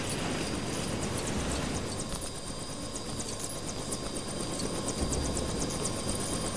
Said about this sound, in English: There's another chopper coming.